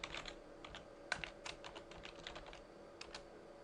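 A command is typed on a computer keyboard: quiet, irregular clicking keystrokes in short bursts, heard alone at low level.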